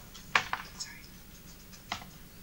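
Keystrokes on a computer keyboard during a live Google Wave demonstration: a quick cluster of light clicks near the start and one more tap later, faint under a low background murmur.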